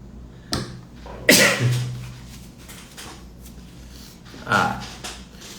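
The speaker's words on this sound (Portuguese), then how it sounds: "O espirro tá fazendo parte dessa" A single loud, sharp sneeze bursts out nearby, followed by quieter rustles and a softer thump later.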